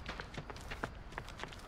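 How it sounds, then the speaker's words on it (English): Running footsteps in the Texas Chainsaw Massacre video game, a quick series of soft, fairly distant thuds in a steady rhythm, heard alone without talk. "Whose footsteps is that? Somebody's running."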